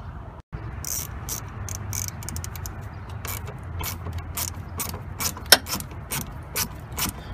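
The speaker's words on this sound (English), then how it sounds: "The size socket you need to get the plug undone is either an 8mm or a 5/16." A ratchet with an 8mm socket loosens the plug bolt on a Dodge Dakota, Durango or Ram transmission, giving close, crisp clicking in repeated bursts of rapid ratcheting.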